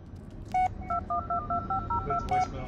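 A phone dialing in the Blair Witch video game, a quick run of about ten clean touch-tone beeps in an irregular rhythm, close and distinct over a faint background hum.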